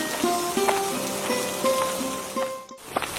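Steady cartoon rain hisses evenly across the whole stretch, with light tonal music notes layered over it and a brief dip to near silence just before the end.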